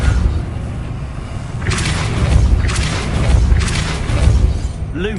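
A Depulso spell cast in Hogwarts Legacy, heard as a sustained loud rumbling blast with repeated whooshing surges over a heavy low drone, ending with a short rising tonal flourish.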